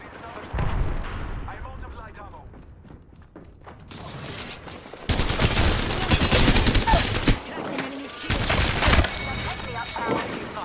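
Bursts of gunfire in the battle royale game Apex Legends, several loud volleys and rapid shots clustered across the second half, with in-game voice lines and player chatter around them.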